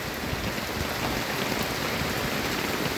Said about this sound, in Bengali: বৃষ্টি দেখো, বৃষ্টি নামছে,